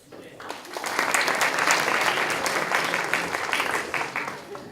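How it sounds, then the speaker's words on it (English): An audience at a university student event applauds, a dense, steady round of clapping that builds quickly and holds for several seconds before easing off. "With your round of applause, yes!"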